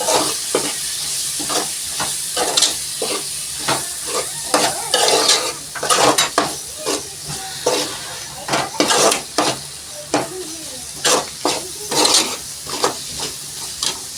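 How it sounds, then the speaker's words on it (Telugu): Ingredients sizzle steadily as they fry in a pan for gongura chicken curry, while repeated scraping strokes of a stirring spoon land in an irregular rhythm on top. The pan sounds close and moderately loud, with no talking. "చూడండి మొత్తం వేగుతున్నాయి"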